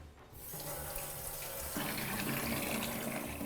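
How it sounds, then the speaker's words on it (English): A pasta cooker's built-in faucet is switched on and water gushes steadily into the pot, a loud close rushing stream that starts abruptly and continues. "It's got its own faucet."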